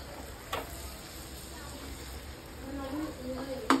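Spices hit hot oil for a carrot and radish pickle, giving a soft, steady sizzle and crackle close by, with small clinks and a louder scrape at the end while someone talks over it.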